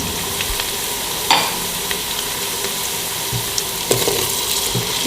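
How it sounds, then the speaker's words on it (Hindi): Whole garlic frying in hot oil with onions gives a steady close sizzle, with a few louder spits and crackles, probably from stirring, over a continuous hiss. "लहसुन, जैसे मैंने बताया साबुत ही डाल देंगे इसके अंदर।"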